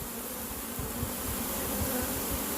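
A dense, steady buzzing of a honeybee swarm of about two to three pounds, continuous and close, with a low droning hum throughout.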